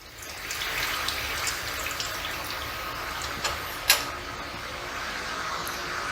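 Hot tap water running steadily over a lab sample tube of gold nanoparticle solution, a continuous broad hiss with a faint clink partway through, close and alone without talk.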